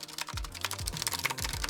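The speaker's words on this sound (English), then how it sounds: "that's this is the worst keyboard I've built" Rapid typing on a cheap mechanical keyboard with Otemu switches, a dense run of close, loud key clacks with heavier thuds every few strokes.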